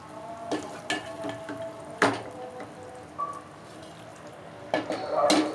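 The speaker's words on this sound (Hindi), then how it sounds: "अब हम इसे डिश आउट करके दिखाते हैं आपको।" Cooked cluster beans (guar phali) being served out of a pan, with scattered spoon scrapes and clinks against metal, soft wet squishes and a louder clatter near the end, under quiet background.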